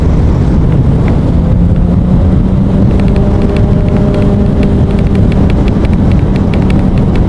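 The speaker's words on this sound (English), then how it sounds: "Oh, it's bloody windy." Strong wind roars steadily across the microphone during an evening group motorcycle ride, a constant buffeting rush with a faint engine drone underneath and no talking.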